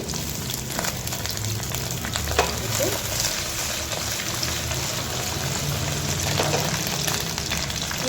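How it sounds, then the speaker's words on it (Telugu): Okra frying in hot oil in a pan over a low gas flame, giving a steady, dense sizzle that runs close and continuous throughout with no talking. "నూనె కాస్తంత హీటెక్కాక మనం కట్ చేసుకున్న బెండకాయల్ని ఇట్లా వేసుకోవాలి. ఎగ్దమ్ గ్యాస్ నుంచి సిమ్లో పెట్టుకొని మనం వేగించుకోవాలి."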